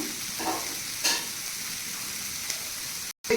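Mixed vegetables with broccoli and salt sauté in a pan, a steady close sizzle with occasional stirring scrapes and no talk.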